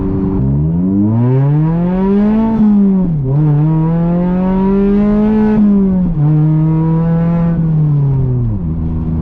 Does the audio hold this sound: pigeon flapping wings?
no